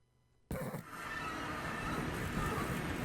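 A horse neighs in the Minecraft video game, a sudden loud, sustained whinny bursting out after brief quiet and holding steady to the end.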